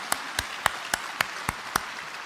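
A church congregation at a special testimony service claps together in a steady, even rhythm, seven crisp unison claps spaced evenly apart over a quiet background.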